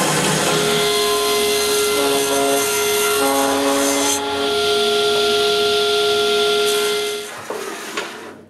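Wooden dust board being cut to shape in a workshop, a loud continuous power-tool whine with bright rasping wood-cutting noise that runs for several seconds before winding down near the end.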